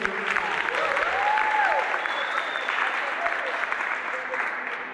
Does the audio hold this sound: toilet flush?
no